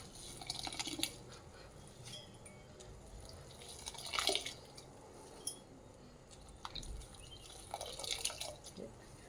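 Soaked puffed rice (mandakki) is squeezed by hand, giving faint, close drips and small wet squishes as water runs out in scattered bursts.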